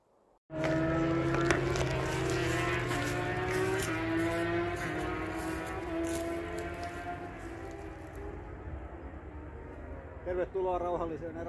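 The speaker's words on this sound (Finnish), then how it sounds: "Tämä moottoriradan möly kuuluu yli kilometrin säteelle tästä joka suuntaan." Engine roar from a motor racing circuit carries across Virttaa wilderness, a sustained droning whine of racing cars with shifting pitch drifting over open country, and a person speaks over it.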